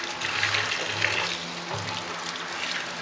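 Raw chicken is washed under running water in a home kitchen, with a steady gushing tap-water rush and faint handling sounds throughout.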